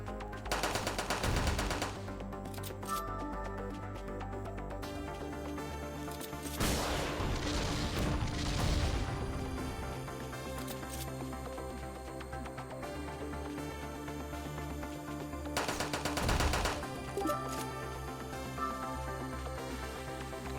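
Machine gun fire from the video game Metal Dogs, heavy bursts near 1 s, 7–9 s and 16 s over a continuous bed of game music and effects.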